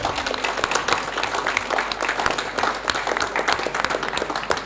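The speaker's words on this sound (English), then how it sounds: "So your summary and your caution deserve the applause" An audience at the Business Sweden pavilion at COP27 in Sharm el-Sheikh gives sustained, dense applause, steady and fairly loud throughout with no voices.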